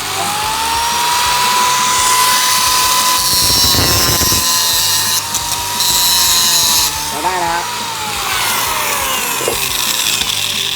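Angle grinder powered through a 3000 W power inverter, running continuously with a loud, steady high whine that dips and shifts in pitch as it bears down on material.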